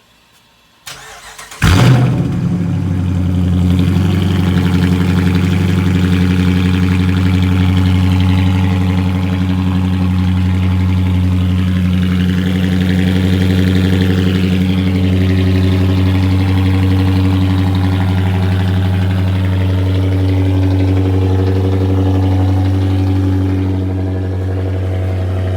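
A car's engine cranks and catches after a cold start, then settles into a steady, loud, close idle with a deep rumbling drone that holds unchanged, with no talking.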